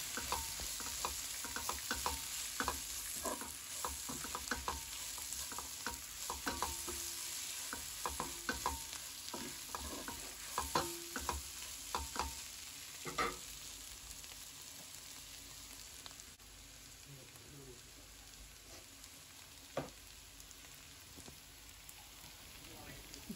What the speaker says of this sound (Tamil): அந்த அனியன் வதங்கின பிறகு நாங்கள் ஃப்ரை பண்ணி வச்சுருந்த கோவா கேபேஜையும் அதோட ஆட் பண்ணி கொஞ்சம் வேக வைப்போம்.